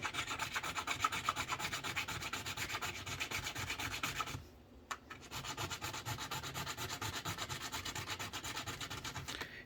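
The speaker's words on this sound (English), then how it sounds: "I'm going to file it nice and level" A hand file strokes steadily back and forth across a small model locomotive truck part, being leveled at a bench edge, in a fast even rasping rhythm that pauses briefly midway, close and alone.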